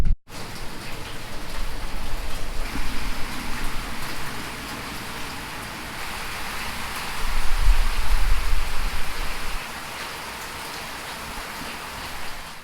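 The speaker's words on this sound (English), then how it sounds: "this is the first real rain we've experienced" Heavy tropical rain falls on a Samoan island with small buildings and thatch-roof huts, a dense, steady roar that swells louder for a few seconds midway before easing back.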